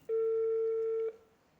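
A telephone gives a single steady electronic ring tone lasting about a second, loud and clean, then stops abruptly into quiet.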